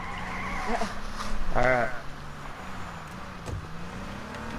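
A vehicle in the H1Z1 survival game drives with a low engine hum and a brief skid partway through, while someone speaks briefly over it.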